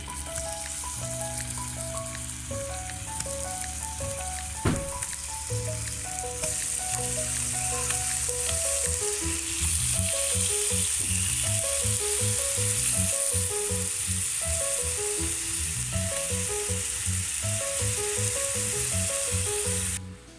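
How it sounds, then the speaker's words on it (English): Continuous loud sizzling of tangerines frying in a pan, a steady crackling hiss with faint scraping and clinking of utensils. "Now let's put tangerines in a frying pan"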